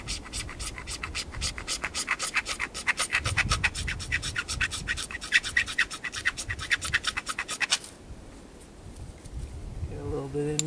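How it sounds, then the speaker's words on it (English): Magnesium being scraped from a fire-starter block onto a tinder nest outdoors, a steady rapid rhythmic rasping that stops near the end, close and fairly loud with no talk. "we'll scrape some magnesium on there"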